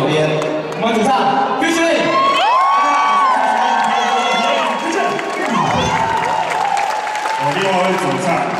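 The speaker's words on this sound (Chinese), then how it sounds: "麻烦给他热烈的掌声跟欢呼" A concert crowd at a show cheers and claps for the band's lead singer, a loud, dense wall of applause with high shouts and whoops running continuously throughout.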